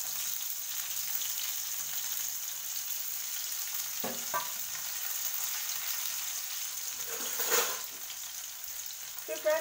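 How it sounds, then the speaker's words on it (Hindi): Onion and garlic fry steadily in a pan at home with cumin already browned in the oil, giving a faint continuous sizzle with a few soft clinks and stirring scrapes. "प्याज ब्राउन होने तक भूनेंगे इसको।"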